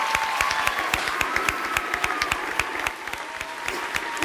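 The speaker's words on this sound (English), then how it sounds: "let's hear it for Jeanine and Melissa" Studio audience applauding on a televised dance competition show, a steady wash of many hands clapping with crisp individual claps standing out, sustained and fairly loud throughout.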